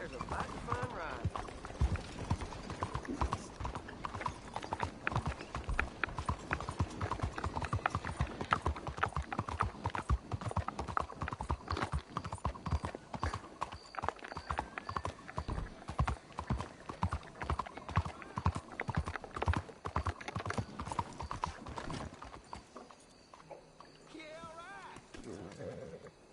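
A horse in Red Dead Online clip-clops steadily at a brisk, even rhythm for over twenty seconds before the hoofbeats stop. Someone talks over it.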